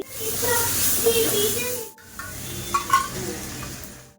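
Grated carrot with cumin frying in oil in a pan, giving a steady close hiss and sizzle with a brief break midway, then stirring clatters over the continuing fry, while a voice talks over it.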